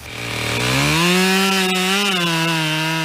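A Husqvarna chainsaw cutting wood during tree felling, its engine rising from idle to a loud, steady high-revving whine that holds close and continuous with no talk.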